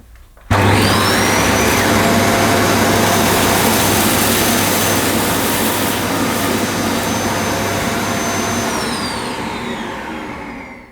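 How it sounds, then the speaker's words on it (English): A Dyson Cinetic Big Ball Animal vacuum cleaner runs loud and close with a steady high whine and roar as it cleans along a floor edge by the skirting board, then winds down at the end. "I'm going to see how well the Dyson Cinetic Big Ball cleans up to the edge"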